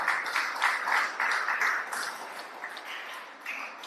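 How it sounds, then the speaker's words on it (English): A seated audience at a herbs book presentation gives a warm round of applause, dense clapping that peaks early and gradually thins out, with a few scattered claps trailing at the end. "giving yourselves again a very warm round of applause for your job well done."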